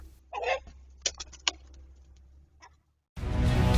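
A rooster and hen in a chicken coop give a few short clucks and sharp squawks amid scuffling, then a sudden loud broadband noise cuts in at the end.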